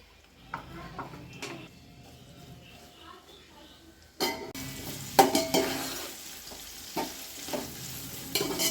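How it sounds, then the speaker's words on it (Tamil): Onions for Hyderabadi chicken biryani fry in oil and are stirred, starting as a quiet sizzle with occasional spoon knocks, then jumping to a louder, crackling hiss with repeated scrapes against the pan. "இந்த வெங்காயத்தை முதல்ல நம்ம நல்லா வறுத்துக்கிடுவோம்."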